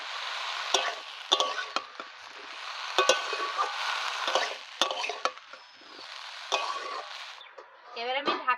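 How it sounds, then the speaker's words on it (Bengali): Cut water lily stems drop into a hot pan with whole cumin, bay leaves and split dried chillies, setting off a loud steady sizzle with scattered clinks of a spatula stirring, close by. "এবারে এই কেটে রাখা শাপলা দিচ্ছি।"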